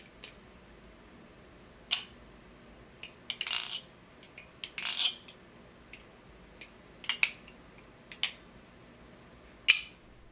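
A Nabalis Morse folding knife on bushings is flipped open and snapped shut repeatedly, giving crisp metallic clicks and short swishing snaps at irregular intervals, close up against a quiet background.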